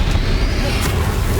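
A Depulso force spell blasts out during a duel in Hogwarts Legacy, a short loud booming whoosh that fills the brief moment amid dense combat noise.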